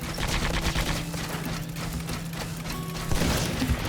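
Repeated grenade launcher fire and blasts from the video game Sand Land, a steady run of loud gunfire-like bursts over a constant droning hum, with a heavier burst near the end.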